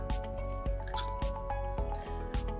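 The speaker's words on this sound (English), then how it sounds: "pour it into the cup" Drained fluid from a JP surgical drain bulb poured into a cup, heard as a close, steady series of small wet drips and splashes in quick irregular rhythm.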